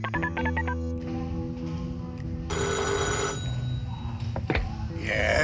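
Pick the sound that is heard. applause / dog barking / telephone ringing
telephone ringing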